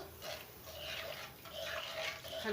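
Lentils and rice being stirred in a pot of water for Egyptian koshari, a soft, wet, uneven sloshing and scraping close by, steady through the moment with no talk.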